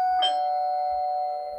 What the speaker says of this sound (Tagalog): May nag-doorbell, nandito na pala ang aming mga foods.